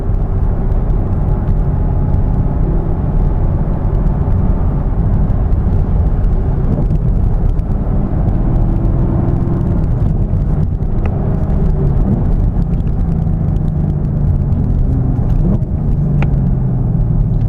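A 2018 Chevrolet Camaro ZL1 1LE heard from inside while driving: a loud, continuous low engine rumble and road drone, with pitch slowly shifting and a rising then falling tone near the end as the car changes speed.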